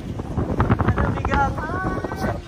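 Strong wind gusting across a London park on a cool day, steady broadband rush buffeting the microphone throughout, with faint voices underneath.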